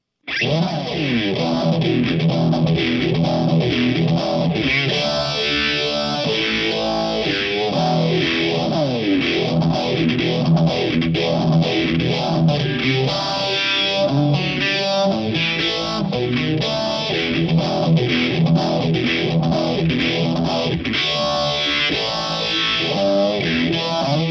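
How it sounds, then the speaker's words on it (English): A distorted electric guitar runs through a Keeley 6-stage vintage phaser, its sweeping whoosh rising and falling steadily under dense, sustained chords and riffs played loud for the whole stretch. "Now that is with a 6-stage phaser."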